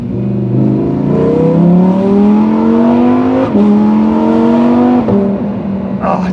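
A Lamborghini Huracan EVO Spyder V10 engine pulls hard from inside the cabin, its loud rising tone climbing steadily through two upshifts with brief dips at each change, ending with a short sharp crackle.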